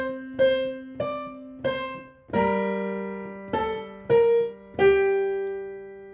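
Easy piano chorus of Carol of the Bells: four short repeated notes, then fuller chords struck in a steady rising-and-falling pattern, each note ringing out clearly and close with no voices.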